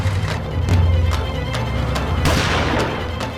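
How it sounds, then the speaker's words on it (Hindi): Gunfire in a chase scene, a rapid series of sharp cracks and booms repeating at roughly half-second intervals over a constant low rumble, loud and close. "पटाखे नहीं फोड़ रहे हैं प्रिय, गोलियां चला रहे हैं, गोलियां।"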